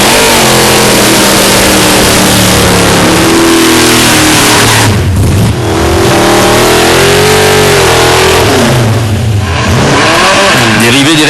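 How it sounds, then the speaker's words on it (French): A drag racing car does a burnout to heat its tyres, the engine roaring loud and close without a break, revving up and down with pitch sweeps and a brief dip midway. "tout commence toujours par l'exercice aussi spectaculaire que bruyant de la mise à température des pneus"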